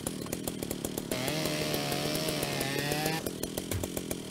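A power saw bites into wreck metal in Ship Graveyard Simulator, loud buzzing whine rising sharply for about two seconds over a steady rhythmic clatter, then dropping back to a lighter idle rattle.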